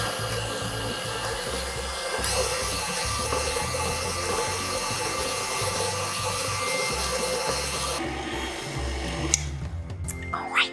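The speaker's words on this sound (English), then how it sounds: "and then we're gonna mix it together" An electric mixer whirs through butter and sugar for pinwheel cookie dough, a continuous motor drone that shifts in pitch partway through, then gives way to scraping and clinks near the end.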